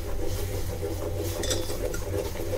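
Rice flour dough being stirred in a pot over low gas heat, with soft scraping and clinking of a utensil against the pot, steady and close, without talk.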